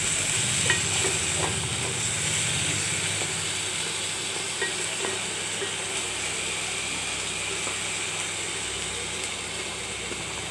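Chillies fry in a hot pan with a continuous bright sizzle and hiss and occasional small pops, steady and close throughout, with no talking.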